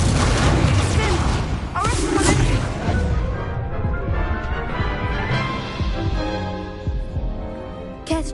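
A fire spell cast in the Hogwarts Legacy game lands as a heavy booming burst with dense low rumble, rolling on and flaring again briefly near the end.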